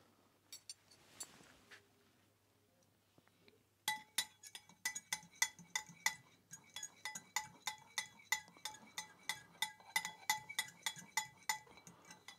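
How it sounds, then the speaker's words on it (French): A fork whisks vinaigrette in a bowl beneath a spoon, starting after a quiet stretch with a fast, steady run of sharp, close metallic clinks against the bowl. "vous remettez la fourchette pour faire un petit fouet"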